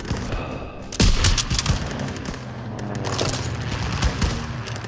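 Dense rapid gunfire and explosive bursts in a Call of Duty WWII battle, loud and continuous with overlapping shots and booms, no voices.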